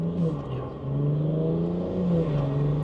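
A 600whp BMW 340 xDrive engine pulling hard under acceleration, a loud, close droning rev that dips briefly and climbs again, like a short shift, with some voices underneath.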